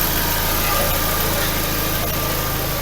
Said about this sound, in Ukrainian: Машина запущена, ви собі навіть не уявляєте, яка тиша.